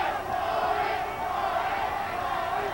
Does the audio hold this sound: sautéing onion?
no